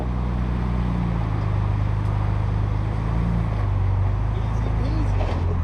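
2024 Ford Ranger Raptor crawling slowly up an off-road hill, a low steady engine drone with shifting engine tones and wind noise, fairly close and continuous.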